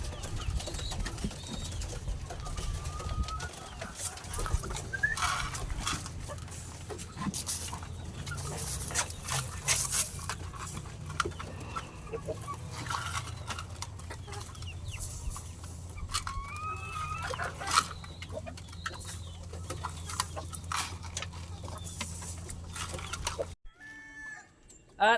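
Chickens and other farm birds cluck and call continuously at feeding time, a dense close chorus with occasional rooster-like calls and louder squawks, steady throughout with no talk.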